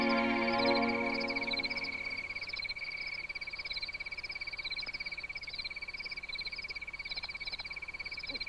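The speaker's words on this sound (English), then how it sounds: "Sometimes we may share a rising exuberance with the reverberant frogs." Frogs croak in steady repeating pulses after rain in the Grand Canyon, a dense reverberant chorus that carries on throughout, with a brief tonal hum at the start.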